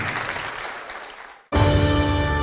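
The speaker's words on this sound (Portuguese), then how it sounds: "vamos aplaudir bastante." Church congregation applauding at a worship service, a broad wash of clapping that fades away and is cut off abruptly by a loud, sustained musical tone.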